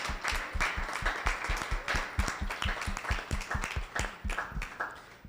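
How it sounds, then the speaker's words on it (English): A small audience at a college campus opening event claps in a brisk, distinct burst of individual hand claps, fairly close and moderately loud, for a 93-year-old guest. "Can you just give her a clap for that?"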